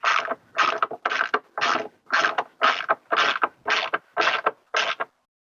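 Bolts on a Yamaha Tenere 700 skid plate are screwed in with ten evenly spaced, crisp ratcheting bursts about half a second apart, close and clear with no talk.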